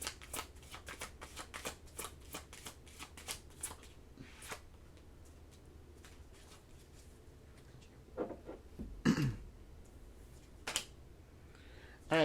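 Tarot cards are shuffled in a series of quick, crisp riffling flicks, close and fairly quiet, then it settles into softer handling and a few sharper taps near the end.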